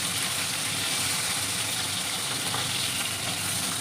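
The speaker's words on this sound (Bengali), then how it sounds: "এবার আমি উল্টে দিচ্ছি।" Fish frying in hot oil in a pan, with a piece just turned over, make a loud, dense, even sizzle that fills the moment without any pause or voice.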